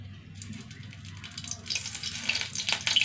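Coconut oil and ghee sizzle steadily in a hot pan, a soft continuous crackle that grows a little louder and busier toward the end, with no voices.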